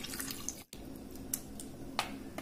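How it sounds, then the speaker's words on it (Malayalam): Water poured into a pan of fish curry mix, a soft continuous trickle with a few drips, quiet and close, broken by a brief gap early on. "ഇനി ഇതിലേക്ക് കുറച്ച് വെള്ളം ഒഴിച്ചു"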